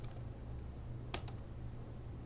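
A computer keyboard being typed on, with a short quick burst of a few keystrokes midway through a quiet room hum and no talk.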